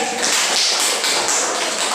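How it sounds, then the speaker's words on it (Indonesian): Classroom students clap for a presenting group, a dense, even patter of hands filling the room at close range without pause. "Tepuk tangan untuk kelompok 3."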